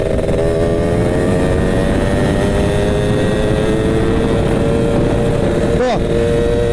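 Yamaha Alfa motorcycle engine held at high RPM with a racing CDI, a loud sustained buzzing whine with slowly rising pitch, then a sudden sharp blip as the revs flutter near the end; a voice talks over it.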